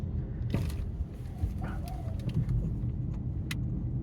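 A Mahindra XUV 400 EL Pro electric SUV rolls over a rough patch of broken road, giving a low steady rumble with occasional knocks and rattles from the cabin.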